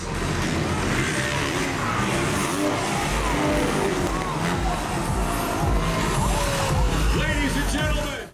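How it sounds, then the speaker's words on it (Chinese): Motorcycle stunt show at the Calgary Stampede rodeo, with loud continuous engine roar and revving, tire skids and a crowd din throughout, voices mixed into the noise. "还有摩托特技表演。"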